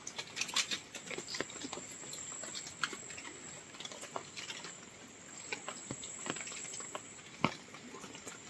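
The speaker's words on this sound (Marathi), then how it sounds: "पाऊस आहे त्याच्यामुळे पटपट करून तुम्हाला दाखवतो." Rain pattering outdoors at a mango orchard, scattered irregular drips and taps over a soft background hiss with a faint insect-like whine, quiet and close, no talking.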